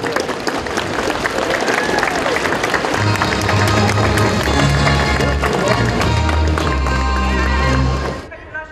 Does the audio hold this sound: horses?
yes